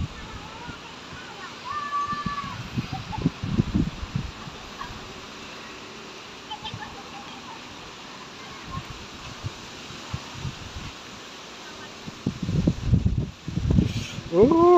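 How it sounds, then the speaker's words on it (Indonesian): Strong wind gusts over a residential road near a mall, buffeting the microphone in heavy low rumbling bursts that come and go, with a voice speaking at times. "Anginnya kencang sekali."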